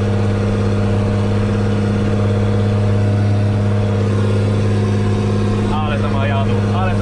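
A Renault or New Holland tractor engine runs steadily nearby with a deep, constant drone and strong low hum, heard from close by with a window partly closed.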